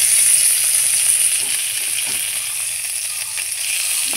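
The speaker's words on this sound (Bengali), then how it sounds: "আমি উল্টো পাল্টায় ভালো করে পাতুরিটা ভেজে নিয়েছি" Mourla fish paturi fries in a pan with a steady, close, bright sizzle that holds for the whole stretch, with no voices over it.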